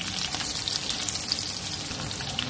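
Potatoes fry in hot oil for a masala brinjal-and-potato dish, giving a steady, dense sizzle with fine crackles and pops throughout, close and continuous with no voices.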